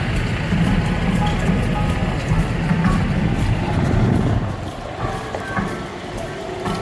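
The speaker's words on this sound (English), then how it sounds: "ground train going by." A train rumbles past nearby with a heavy, rolling clatter that fades partway through, leaving quieter outdoor background noise, at the Midwest Old Threshers show grounds in Mt. Pleasant, Iowa.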